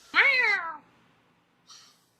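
A person imitates an ocelot meowing with one loud, drawn-out, cat-like meow that falls in pitch, followed after a pause by a brief, fainter second sound.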